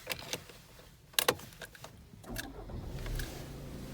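A Volkswagen Tiguan 2.0 TDI diesel cranks with a short sharp starter burst, then catches and settles into a low, steady idle that grows slightly louder, heard close and alone.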